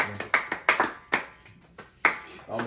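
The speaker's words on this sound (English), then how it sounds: "Clap it up for Jerusalem." A few people clapping in sparse, uneven bursts during a casual podcast recording after a youth basketball winter league championship, separate sharp claps with short gaps, close and fairly loud in a small room.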